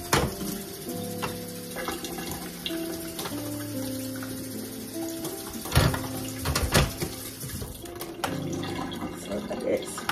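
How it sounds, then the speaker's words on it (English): Water poured from a container into the mopping tank of a Yeedi robot vacuum, a steady trickle and gurgle with rising tones as the tank fills, under a person speaking. "this is where you fill it with water. Go ahead and add some water."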